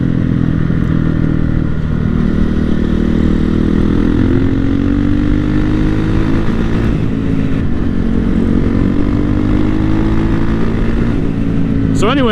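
A 2007 Honda CRF450X supermoto motorcycle rides along a leaf-covered trail, its engine droning steadily and close throughout, with a brief rising whine near the end.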